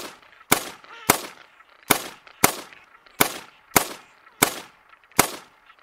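Hunting gunshots in the video game The Hunter Call of the Wild: eight sharp, loud shots spaced roughly evenly about half to one second apart, each with a short decaying tail, no talking.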